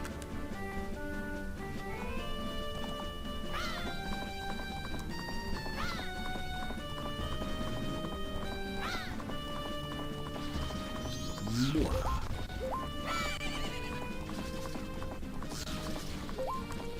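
Horse hooves gallop in The Legend of Zelda: Majora's Mask while riding toward Ikana Canyon, rhythmic clip-clop under game music with a neigh and crashing effects, speech occasionally over it.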